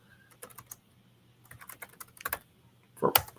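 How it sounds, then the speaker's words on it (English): Bursts of computer keyboard typing while answering birthday messages on Facebook, quiet clicks in irregular clusters with pauses between them and a louder flurry of keystrokes at the end. "It's me typing a lot of thank yous"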